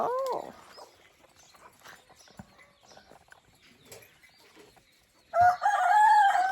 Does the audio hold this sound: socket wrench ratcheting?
no